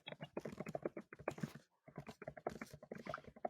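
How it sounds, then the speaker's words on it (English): Rapid keystrokes on a computer keyboard come through a video call, a quiet, irregular patter of clicks with one short pause midway. "I hear you typing."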